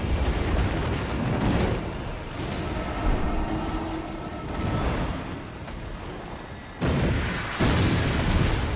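Rumbling explosions from fingernail mines in the video game Elden Ring, heavy low booms and sustained roaring blasts, loud and dense, with sudden bursts near the end.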